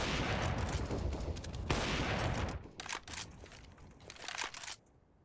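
Gunfire in Counter-Strike on the Dust2 map during a professional esports match, with loud, sustained bursts of shots that thin out toward the end, without commentary.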